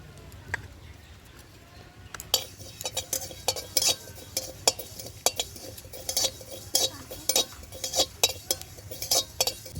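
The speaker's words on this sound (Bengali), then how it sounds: "কালো জিরেটা আলাদাভাবে ভেজে নেব।" A spoon or spatula stirs black cumin seeds frying in a pan for a lemon chili pickle spice mix, giving quick repeated scrapes and metallic clinks; after about two quiet seconds, the strokes continue close and fairly loud with no talking.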